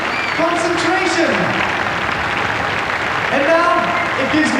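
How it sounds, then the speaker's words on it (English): A large stadium crowd applauds at the 1993 SEA Games opening ceremony in Singapore, with broad continuous clapping and cheering that carries across the venue, plus a few whistles and a faint background voice. "Would you please give them a round of applause?"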